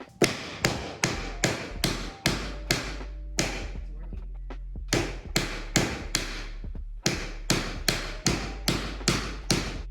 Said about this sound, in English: just hit it with the hammer sideways until it locks into here